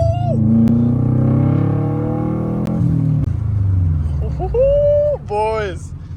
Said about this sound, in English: Oh my god, the turbo sounds crazy.